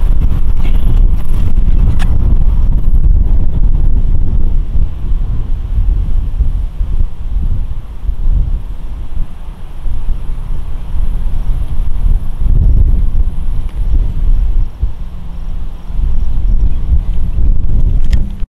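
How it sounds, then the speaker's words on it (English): Strong gusts buffet the microphone with a heavy, low rumbling roar that persists throughout, swelling and easing slightly. "It is crazy windy, so let's hope this microphone works."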